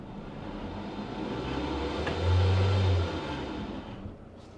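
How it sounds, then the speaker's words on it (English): A 2026 Mazda CX-5 accelerates on an off-road diagonal slip test, wheels spinning without traction, with a steady engine drone swelling into a louder revving rumble midway before easing off, close and without talk. "So we're getting a lot of wheel spin, but really no traction control intervention at all"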